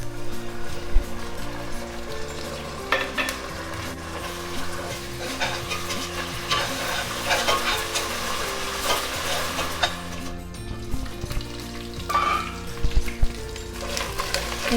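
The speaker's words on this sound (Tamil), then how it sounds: "இஞ்சி பூண்டு நல்லா வதங்கிடுச்சு." Ginger garlic paste fries and sizzles in a pan for mutton kurma, a steady close hiss broken by the scrape and clatter of stirring, with background music underneath.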